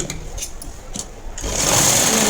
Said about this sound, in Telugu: ఇలా పై సైడ్కి తిప్పేసుకొని హాఫ్ ఇంచ్ గ్యాప్తో ఇంకొక స్టిచ్ రానివ్వండి